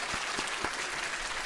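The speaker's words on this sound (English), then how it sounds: "I'm going to give you a round of applause." Applause sound effect played from a soundboard, a short burst of dense clapping at a steady level with a few sharper claps near the start.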